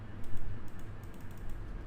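Fast, light keystrokes on a computer keyboard enter an IP address in a quick burst of clicks over a steady low hum.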